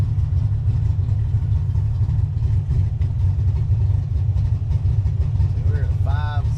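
A parked car's engine idles in a steady, low, continuous rumble that holds even throughout, with a voice faintly present over it near the end.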